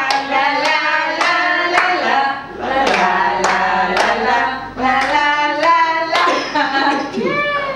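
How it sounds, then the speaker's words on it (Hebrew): A group claps hands in a steady, even rhythm along to a sung children's song, with the claps sharp and close and a voice singing over them throughout. "שימו כפיים, השיר של בורי"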